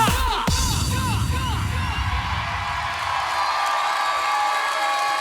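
A television studio audience on L'École des Fans cheers and applauds for Michaël Youn, with loud whoops at the start settling into a sustained roar of crowd noise.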